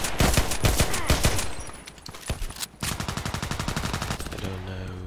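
Rapid pistol gunshots in a sniper-style shooting video game, loud sharp cracks fired in quick bursts with brief pauses between volleys, ending in a lower tonal hum.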